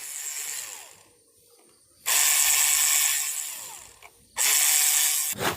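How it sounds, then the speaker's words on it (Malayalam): Screws being loosened from the top of a Sujata mixer grinder: two bursts of close, hissing, ratchet-like tool noise, each lasting over a second, with quieter handling sounds in between. "ഇതിൽ ടോപ്പിൽ 3 സ്ക്രൂ ഉണ്ട്, അത് നമുക്ക് കഴിക്കാം."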